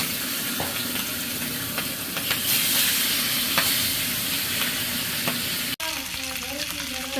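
Fish fries in hot oil in a pan with a continuous sizzle and occasional utensil taps, then the sizzle cuts off abruptly near the end, leaving quieter background sounds.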